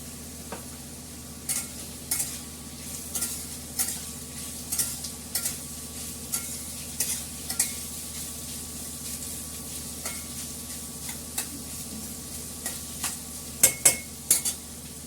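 Meat being cooked in hot oil in a pan, with mutton already boiled, giving a steady sizzle under sharp clattering stirring strokes that come in irregular bursts throughout, with no talk.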